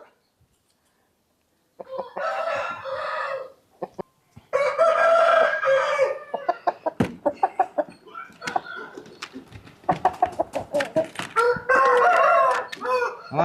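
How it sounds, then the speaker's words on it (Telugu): A heavy fighting rooster crows loudly several times close by, with clucking and sharp pecking or scratching sounds between the calls. "ఇది హెవీ క్వాలిటీ పుంజు మంచి ఫైట్ అనమాట"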